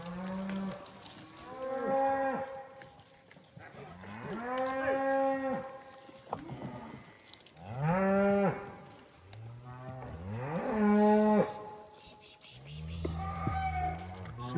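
Cattle moo repeatedly from a small herd being moved to new grass on the Bears Ears during a drought, several long, deep, nearby calls overlapping one another with short pauses between them.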